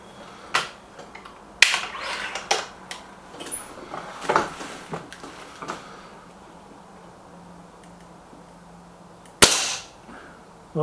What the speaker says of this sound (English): That's 5 great shots from the Warhawk